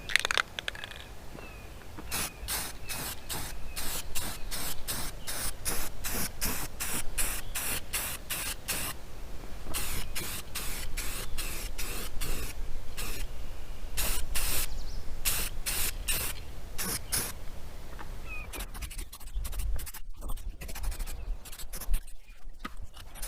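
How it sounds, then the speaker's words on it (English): Spray paint can spraying a truck frame in repeated short hissing bursts, a quick run of close, loud sprays with brief gaps, followed by rattling and handling noise. "So we'll use the spray paint and get to it."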